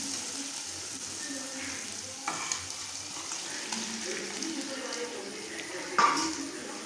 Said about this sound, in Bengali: দিয়ে এটা একটু ভালো করে আবার ভেজে নেব।